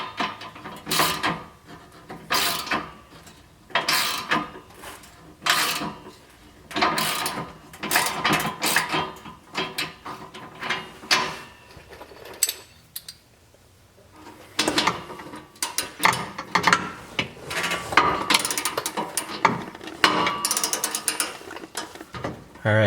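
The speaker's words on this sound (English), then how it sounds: "Alright, getting these bolts tightened back up." A hand ratchet tightens muffler bolts on a 2016 Subaru WRX, making repeated bursts of close, crisp clicking strokes separated by short pauses, with a longer quiet gap midway.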